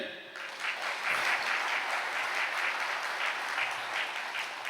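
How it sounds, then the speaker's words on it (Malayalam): A crowd claps steadily and fairly loudly for several seconds, a dense, even patter of many hands without a break. "ഒന്ന് കൈയടിച്ചേ"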